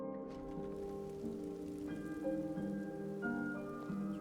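Rain falling in the video game Skyrim, a soft continuous patter mixed under sustained, melodic background game music with held tonal notes.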